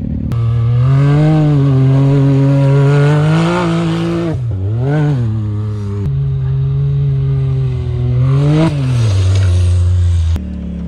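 Polaris RZR and Can-Am X3 side-by-side engines rev hard while drifting, a loud, close, continuous whine that climbs and dips in pitch, with a brief break near the middle before revving again.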